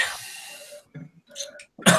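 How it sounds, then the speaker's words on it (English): A person coughs a few times in short, close bursts, with throat-clearing sounds between them and a harsher cough at the end. "my cough's coming back"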